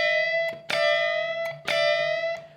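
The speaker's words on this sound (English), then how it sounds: "So here I'm going to be bending up the flat 7, essentially bending up to the root, but also referencing the root at the same time." Electric guitar playing distorted, aggressive bends from the flat seventh up to the root against the ringing root note, producing a dissonant tone; three loud sustained bent phrases in a row, played alone.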